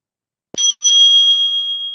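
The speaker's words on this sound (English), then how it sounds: "The timekeeper will ring the bell twice." A timekeeper at an interbatch school debate rings a small bell twice in quick succession, loud and close, bright metallic strikes with the second ring left to sustain and shimmer.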